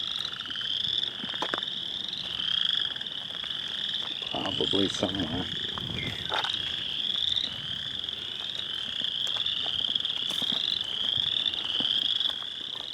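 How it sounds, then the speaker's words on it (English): Frogs croak near a hiking trail in a steady, repeating high chorus of pulsed calls lasting throughout, with brief bits of someone talking beneath. "Saw a frog."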